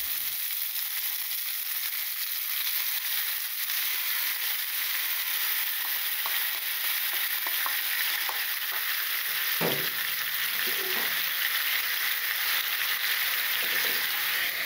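Miso sauce hits a hot pan and sizzles loudly, a steady hiss that fills the whole stretch, with brief bubbling spits and clatters partway through and no one speaking.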